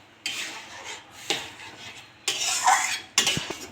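Semolina, water and a little salt are stirred in a pan into a dough, with four separate bursts of close, rough metal scraping, each lasting under a second, between short quiet gaps and no talking.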